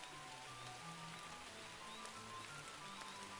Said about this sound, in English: We got a nice kind of rainy atmosphere coming in.